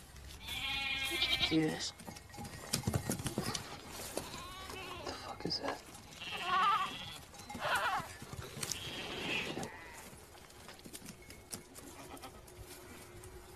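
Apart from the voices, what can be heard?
goats bleating as they approach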